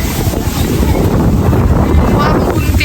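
Strong gusting wind buffets the microphone outdoors on a Taiwan street, a loud, continuous roaring rush with no pauses, strong enough to break an umbrella.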